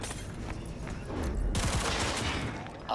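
Rapid bursts of automatic gunfire from an autonomous shooting system in the video game Cyberpunk 2077, dense and continuous with explosive crackle, moderately loud.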